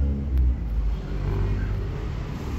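Engine of a 30-year-old 1992 Toyota Corolla revving, a low rumbling idle with a brief surge in throttle near the start, heard close and alone.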